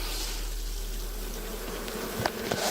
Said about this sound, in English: waterfall of bees going over there. Oh yeah, they're pissed.